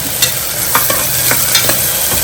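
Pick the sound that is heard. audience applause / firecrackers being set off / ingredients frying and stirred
ingredients frying and stirred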